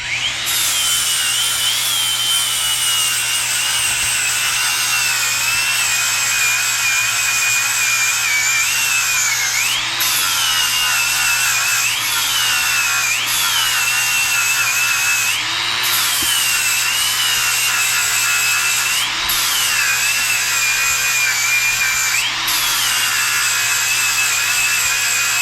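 A Snap-on power tool running on a Milwaukee battery cuts steadily at a hydro dam restoration, a loud, continuous close whine with periodic dips and rises in pitch as the load changes.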